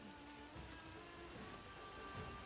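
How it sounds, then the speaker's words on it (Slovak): Rain falls steadily in a soft, even hiss that fills the whole stretch, quiet and constant, with no voices over it. "Úžasný dážď."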